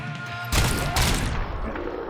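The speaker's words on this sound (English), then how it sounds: "That grenade doesn't kill this guy." A grenade blast and a burst of gunfire in the video game Robocop: Rogue City erupt suddenly after a stretch of loud music, a dense, booming volley that fades quickly.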